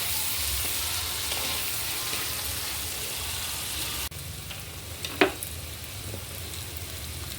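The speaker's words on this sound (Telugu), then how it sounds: "బ్రౌన్ కలర్ వచ్చే వరకు బాగా ఫ్రై చేసుకోవాలి. ఆయిల్లోనే బాగా ఫ్రై అవ్వాలి." Onions frying in oil for a millet and moringa-leaf kichidi give a steady, close sizzle that runs unbroken, dipping slightly in level midway, with one sharp click near the end and no talking.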